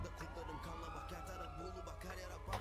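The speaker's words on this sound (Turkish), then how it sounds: "bak siren sesi geliyor" A wailing emergency siren rises and falls faintly in the background, heard at a distance beneath a low rumbling hum.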